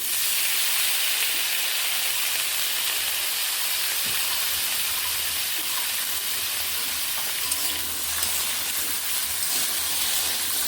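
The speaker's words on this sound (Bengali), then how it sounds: "আলুগুলোকে ভেজে নিই" Potato pieces fry in oil tempered with nigella seeds, producing a loud, continuous, even hiss of sizzling that holds steady throughout with no talking.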